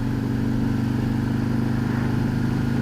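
A 2019 Harley-Davidson trike with a 114 engine running at a steady, loud, close throb, its even pulsing exhaust note continuing without interruption.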